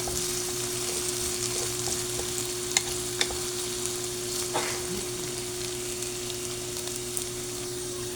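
Onions soften in oil in a pan for ginisang corned beef with potatoes, giving a steady, close sizzle over a low electrical hum with a few light utensil clicks and no talking.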